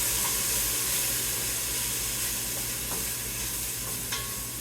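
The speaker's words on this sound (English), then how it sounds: "About 2 tablespoons of minced garlic. Go ahead and throw that in there." Minced garlic, about two tablespoons, sizzles steadily in a cooking pot for tomato basil soup made without oil: a soft, continuous crackle with faint stirring clicks, close and quiet, no talking.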